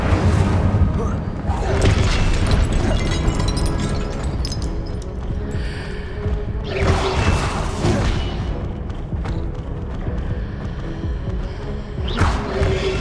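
Spell blasts and booming impacts from Hogwarts Legacy gameplay, a loud continuous barrage of bursts, whooshes and thuds with several sharp surges, under voices calling out spell names.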